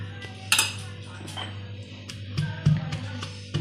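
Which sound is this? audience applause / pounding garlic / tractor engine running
pounding garlic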